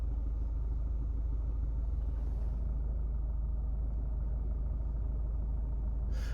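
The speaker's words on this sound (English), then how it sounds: "Car shouldn't be running, but it is running." A Mazda 6 with a keyless entry fault keeps running when it shouldn't, giving a steady low engine rumble at idle, close and continuous, with a brief faint hiss near the end and no talk.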